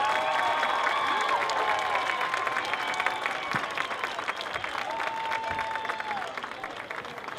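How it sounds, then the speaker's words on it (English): A stadium crowd applauds and cheers for a combined marching band at a high school football game, a diffuse, sustained roar of clapping heard from a distance with faint whistles and calls mixed in. "how about one more round of applause for our combined marching band"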